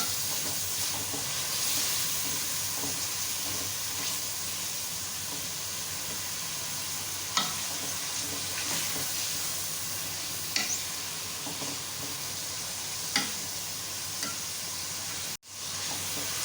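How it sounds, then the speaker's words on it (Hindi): Chicken pieces sauté in a pan for a white chickpea chicken pulao, giving a constant sizzle and steamy hiss, with a few scraping stirs and knocks from the spoon and a brief dropout near the end. "इसकी बुनाई करें अच्छी तरह से, यहाँ तक कि चिकन का जो कलर है वो चेंज हो जाए"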